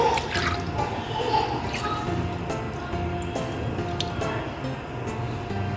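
Milk poured over a baked milk cake, heard as soft trickling and wet dripping with small squishy splashes, close and fairly quiet, no talking.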